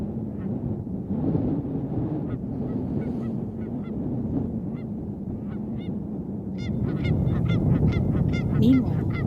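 Geese honk repeatedly over a steady wind-like rumble at Tawayik Lake, Elk Island National Park, Alberta, the calls growing denser and louder toward the end.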